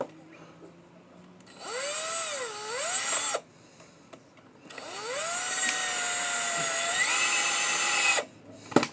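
A power drill driving screws through an old tire, two whirring bursts whose pitch swoops up and down as the motor loads and frees, close and fairly loud, with a short quiet gap between them.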